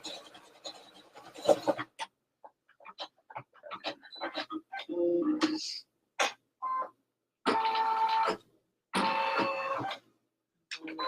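An embroidery machine stitches a tack-down line, whirring and clattering close by in short bursts of a second or so, separated by quiet pauses.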